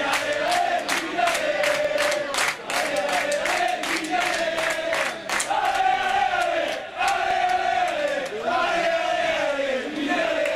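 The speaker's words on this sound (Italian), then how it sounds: "il pubblico di fede riminese non si abbatte e canta orgogliosamente" Rimini football supporters sing proudly together in a stadium, a loud sustained crowd chant with rhythmic claps and drum-like beats, voices rising and falling in melody throughout.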